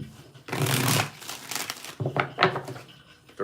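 Tarot cards are shuffled by hand in a few bursts, a long riffling rush followed by shorter crisp flutters and slaps, close up with no talking.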